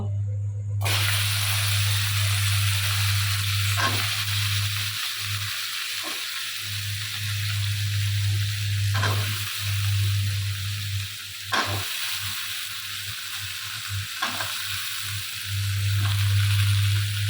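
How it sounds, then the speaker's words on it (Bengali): Vegetable stalks fry in hot oil after fish has been fried, giving a steady loud sizzle with periodic clicks and scrapes of stirring, alongside a constant low hum throughout. "এখন ডাটাগুলো একটু ভেজে নিব"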